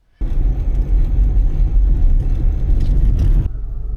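A car drives along an Arizona road, giving a loud, close, rumbling engine and road noise that starts suddenly, holds steady for about three seconds, then drops to a softer hum.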